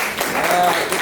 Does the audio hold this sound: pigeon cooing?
no